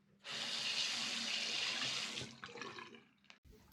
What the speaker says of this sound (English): Just gonna run the razor under some water.